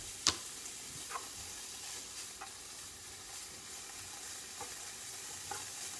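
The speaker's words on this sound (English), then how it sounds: "I'm going to cook the bacon first in the pan" Bacon frying in a preheated pan, a soft, steady sizzle with a sharp click near the start and a few faint ticks and taps scattered through, no voices.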